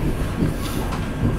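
A Vande Bharat Express train pulls into Mavli Junction, a steady close rumble of rolling carriages with faint rhythmic wheel clatter throughout.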